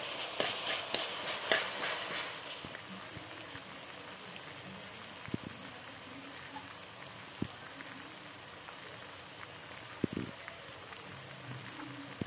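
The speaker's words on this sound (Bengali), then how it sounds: "এখানে তেলের মধ্যে টমেটো দেওয়া হয়ে গেল" Tomatoes frying in oil in a pan for chow mein give a faint, steady crackling sizzle with a few sharp ticks and soft utensil taps scattered through it, heard at a distance.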